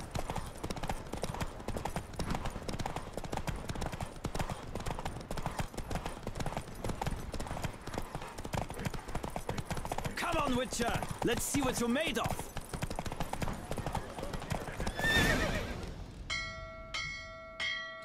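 A horse gallops hard in a race in The Witcher: Wild Hunt, with loud, continuous hoofbeats and a brief neigh near the middle, a bell-like chime near the end, and a voice speaking over it.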